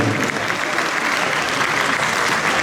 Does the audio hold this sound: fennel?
no